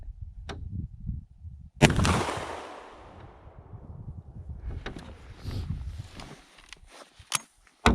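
An American Tactical Cavalry SX 12 gauge over-and-under shotgun fires outdoors, one sharp loud blast with a long rolling echo, followed by fainter bangs and a second loud report at the end.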